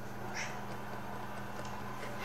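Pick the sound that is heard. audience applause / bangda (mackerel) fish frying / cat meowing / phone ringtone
cat meowing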